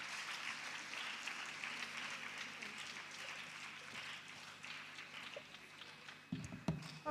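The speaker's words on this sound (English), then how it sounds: "Keep clapping, keep clapping." Continued audience clapping at the Girl Child Summit 2023 forms a steady, fairly soft wash of many hands, with a few louder, closer claps breaking through near the end.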